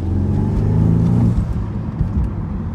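A BMW N20 turbocharged four-cylinder car, fitted with a replacement high pressure fuel pump, revs up under throttle, a loud close engine note that swells and then settles into a lower, uneven drone.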